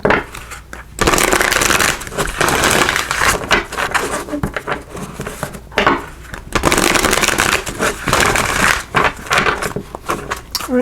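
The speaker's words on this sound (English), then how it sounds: "So we'll shuffle these up" A deck of tarot cards is shuffled by hand in close, crisp riffling bursts that repeat with short pauses between them.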